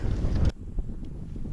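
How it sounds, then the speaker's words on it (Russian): Strong wind gusts buffet the microphone at an open campsite where a tent is pitched in a low hollow, a loud roaring blast at first that drops to a steadier, lower rush of wind. "вот ветер опять начал бушевать"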